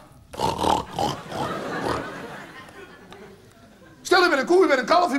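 A voice imitates a pig with grunting, snorting oinks in a Dutch comedy stage show, mixed with spoken lines and getting louder toward the end.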